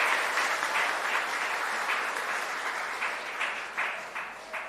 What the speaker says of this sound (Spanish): Un caluroso aplauso para ustedes.